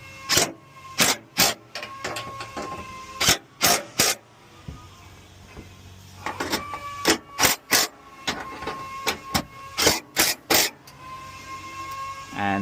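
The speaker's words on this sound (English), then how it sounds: "we'll use our 10mm socket to tighten the inside bolts" A 10mm socket wrench ratchets in repeated sharp bursts while tightening the inside bolts of a battery box on a five-seat Toyota Troopcarrier, each bout of clicking close and distinct with short pauses between.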